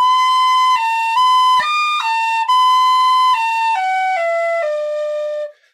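Tin whistle playing a simple beginner tune without ornamentation, clear bright sustained notes stepping up and down in a legato phrase, solo and close, with no talking.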